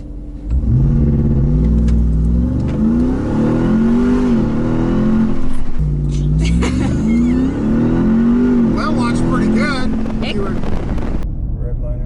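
A 2021 Ram TRX pickup launching and accelerating hard, its engine roaring up through rising gear pulls with a shift in between, loud and close from inside the cab, with wind buffeting and voices calling out over it.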